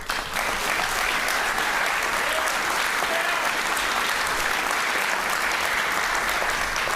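Steady, full applause from a large crowd at an evening charity gala honoring a couple, continuous and even throughout without a break.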